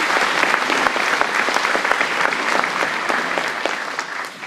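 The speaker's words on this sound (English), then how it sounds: "Let's give them another round of applause." At an elementary school's 100th birthday celebration, an audience gives a round of applause: dense, steady clapping from many hands, fairly loud and close, sustained evenly before tapering slightly at the end.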